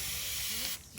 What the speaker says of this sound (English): I'm gonna spray my roller here.